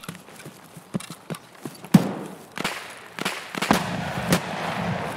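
Gunfire in the shooter Escape from Tarkov: a string of sharp, irregular cracks and pops, some close and loud, others more distant, with a sustained rumble between bursts and no talk.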